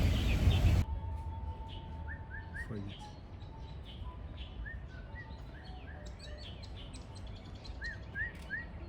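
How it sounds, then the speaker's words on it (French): Several birds chirp and call in short repeated phrases around a zoo in Shanghai, scattered through a steady murmur of background ambience after a brief louder burst at the start. "mais c'est des oiseaux"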